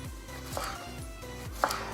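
A knife chops a cucumber into circles for a watermelon cucumber salad, giving soft, steady cutting taps close by on a board with no talking.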